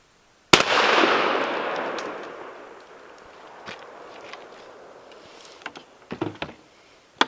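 A .410 shotgun fitted with a Carlson choke fires a single round at a lower target on a shooting range. One loud, close blast rings out with a long fading echo, followed by a few faint handling clicks.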